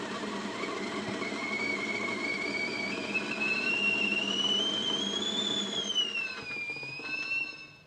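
A kettle on a homestead stove in Wales whistling as its water boils, a steady piercing tone that rises and wavers in pitch before dying away, with faint background rumble.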